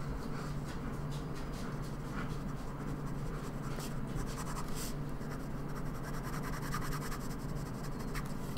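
A fountain pen scratching and gliding across sketchbook paper, a soft continuous rubbing with faint strokes, close and quiet with no talk.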